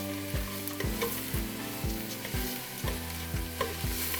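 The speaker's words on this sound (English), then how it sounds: "we're just gonna toss these in the olive oil" Lentils are tossed in hot olive oil in a pot, crackling steadily while a spoon scrapes and knocks against the pan in a regular rhythm of about two strokes a second, with no voices.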